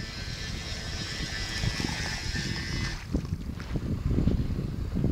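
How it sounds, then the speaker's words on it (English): A small Nikko Stinger 2 RC toy boat whirs on water going backwards, its high buzzing steady for a few seconds and then cutting out, leaving splashy, windy outdoor noise. "That's the boat going backwards."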